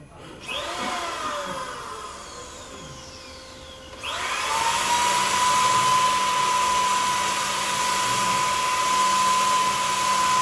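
A power sander whines up and runs steadily with a loud, constant high-pitched roar after a brief quieter mechanical stretch.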